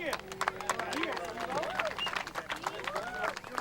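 A crowd at the 2004 PDGA Professional Disc Golf World Championships cheers and claps with scattered shouts and whistles, lively and continuous, with voices mixed in.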